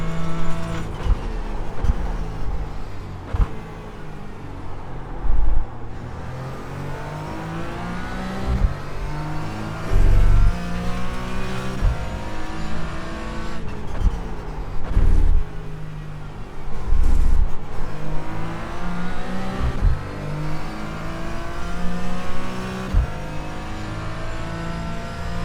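A race car engine in the iRacing simulator revs and climbs through gears repeatedly, loud and close, with upshift breaks and repeated surges of acceleration around the track.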